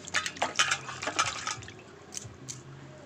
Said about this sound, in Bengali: ধুয়ে নেব আমি।